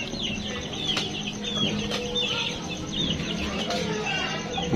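Boston Roundhead chickens cluck and chatter softly in a backyard pen, a steady murmur of overlapping bird calls heard up close, with a few sharper squawks over a constant ambient hum.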